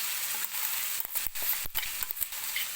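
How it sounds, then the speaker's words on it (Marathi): Cumin, garlic and ground green chilli paste sizzling in hot oil in a kadhai, a steady close crackle broken by a few sharp clinks of stirring. "मी मिरची टाकलेली आहे तेलामध्ये"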